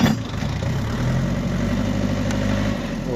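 A motor cultivator engine throttles up while milling soil for potato planting, a loud, close, steady engine roar with chugging low rumble and no talking.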